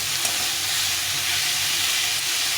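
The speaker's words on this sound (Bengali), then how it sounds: "এটাকে ভালো করে একটু কষিয়ে নিতে হবে অনেকক্ষণ ধরে," Spices and vegetables for a cauliflower, pea and paneer curry sizzle steadily while being sautéed in a pan, a continuous close frying hiss with no pauses and no voices.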